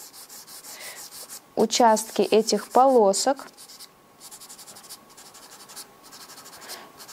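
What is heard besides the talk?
Daler & Rowney blue pastel pencil drawing on paper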